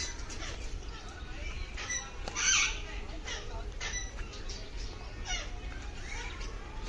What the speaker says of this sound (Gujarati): ઘણા બધા લવ બર્ડ્સ છે